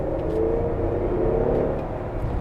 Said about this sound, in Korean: 앞에 엔진룸에서 들어오는 사운드는 좀